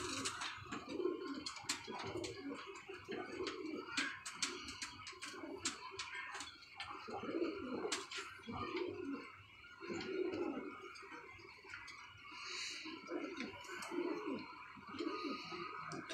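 Kamagar and Golden Teddy pigeons coo softly in repeated low, rolling calls, several birds overlapping close by, with scattered sharp clicks and rustles of movement around them.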